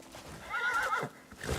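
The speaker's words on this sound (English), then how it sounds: "I have a horse" A horse in a video game gives a loud whinny that rises and wavers for about half a second, with hoofbeats and game sounds around it. There is no talking.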